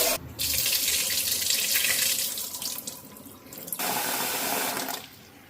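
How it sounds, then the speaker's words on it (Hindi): Leftover water is tipped out into a kitchen sink in a steady, splashing stream for a few seconds. It pauses briefly, then pours again, close by with no talking. "इसलिए ये वाला पानी फेंक रही हूँ।"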